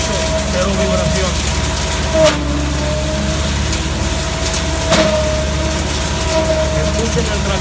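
A Bison hammermill driven by a tractor runs as a steady, loud mechanical drone with a constant hum, with two brief louder knocks as material feeds through.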